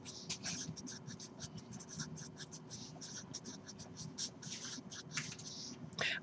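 Marker or chalk strokes on a board while working through math problems, a steady run of short scratchy strokes with a faint low hum underneath and no talk.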